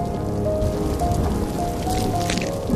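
Steady rain falls on a surface with a dense, even patter and drips throughout, close and continuous with no voices.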